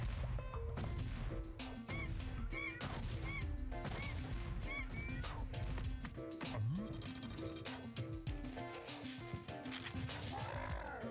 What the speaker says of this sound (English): So we got a bunch of slugs being bombed by a bunch of birds.